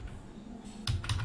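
Fingers type on a computer keyboard during an Excel tutorial, a few soft, close clicks with two louder keystrokes near the end, quiet and with no talk.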